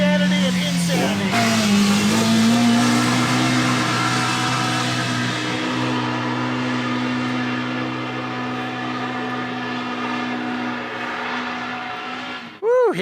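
An off-road vehicle's engine drones steadily as it climbs a hill in four-high, its pitch rising briefly early on and then holding a sustained, fairly close hum until it cuts off abruptly near the end.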